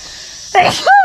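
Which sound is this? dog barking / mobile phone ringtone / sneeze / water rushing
sneeze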